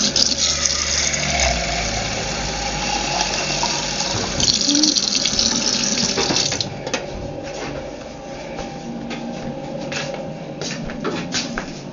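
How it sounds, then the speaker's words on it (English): Tap water runs into a can, filling it about halfway for a stuffed cabbage recipe, a steady close rushing pour that continues throughout before easing slightly toward the end. "Gonna take this can and fill it halfway with water."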